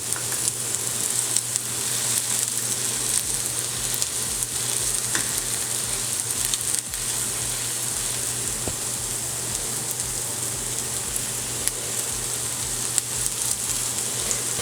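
A carrot burger fries in a pan with a steady, close sizzle that holds at even loudness throughout, with no one speaking over it.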